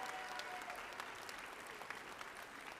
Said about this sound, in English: Cue applause. Family can go wild.